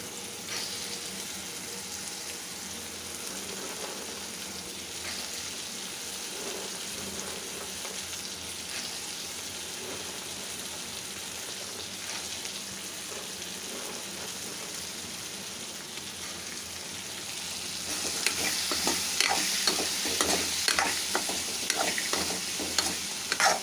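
Chopped cluster beans fry with softened onions and tomatoes in a pan, giving a steady hiss that swells into louder, crackling sizzling toward the end, with no talking.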